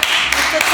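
A brief, dense wash of clapping from a group during a dance crew's gathering, with voices mixed in.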